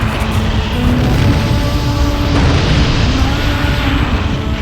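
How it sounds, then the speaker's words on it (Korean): Mount Vesuvius erupting in AD 79 near Pompeii, a dense, continuous low rumbling roar of volcanic explosion that stays loud and steady throughout, with no voices present. "베수비오 산이 폭발했다."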